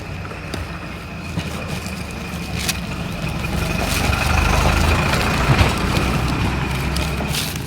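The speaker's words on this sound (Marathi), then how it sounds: "सतत मोठमोठ्या गाड्यांचा आवाज कारण इकडं कचरा टाकायला टेकडीवरती गाड्या जातात" Large garbage trucks climb toward a hillside dump, their heavy engines rumbling low and steady, swelling louder as one passes close by midway, with no talk over the noise.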